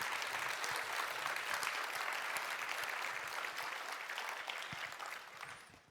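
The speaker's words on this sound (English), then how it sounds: "Give them a round of applause, yeah." Dense, steady audience applause at a QuakeCon 2015 Elder Scrolls Online presentation fills the room for several seconds, then begins to thin out toward the end.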